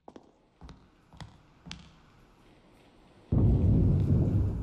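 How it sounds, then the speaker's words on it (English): Storm in the indie horror game RHOME, with a few sharp distant cracks and knocks before a sudden loud, steady wash of heavy rain and rumbling storm noise takes over. "Storm is going crazy right now."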